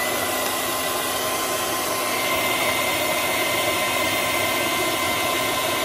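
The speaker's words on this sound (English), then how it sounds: "You want to hit it with a hairdryer" A hairdryer blows hot air onto a badger knot to warm the gel, a loud, steady, close whooshing roar that holds unchanged throughout with no voices.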